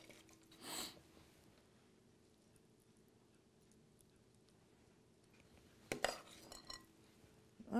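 Spoon pressing and packing an herb-filled food mixture into a serving dish, a brief scrape near the start, a quiet pause, then a cluster of close clinks and scrapes against the dish.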